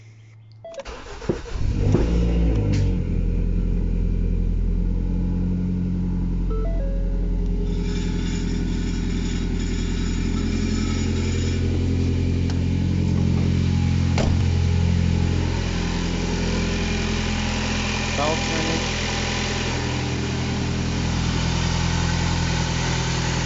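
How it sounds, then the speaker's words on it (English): A 2012 Ford Focus SE engine cranks and catches after a serpentine belt replacement, then settles into a steady, continuous idle that runs on with a low rumble, close by. "And now I guess all there is left to do is start the engine."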